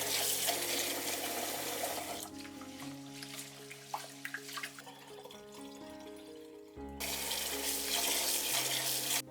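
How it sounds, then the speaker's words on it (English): Short grain rice is washed in water at a sink: running tap water gushes loudly, then quieter splashing and swishing, and the water runs strongly again near the end, with no talking. "Wash it 3 times."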